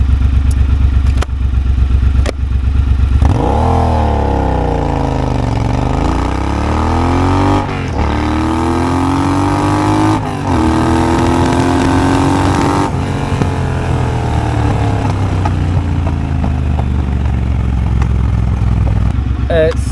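A Triumph Bobber motorcycle pulls hard from a standstill toward 60 mph, its engine climbing through rising revs with clear gear changes, loud and close under constant wind noise and a rider speaking over it.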